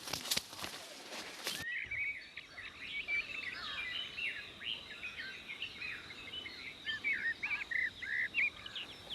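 Faint birdsong chirps and twitters repeat on a coffee farm, following a brief rustle at the start. Soft insect and ambient outdoor noise sits underneath.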